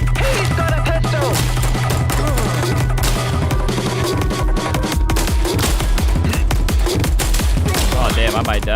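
Pistol gunfire in a late-night PlayStation game session, rapid shots cracking out amid a dense, continuous game soundtrack with crashes and impacts throughout.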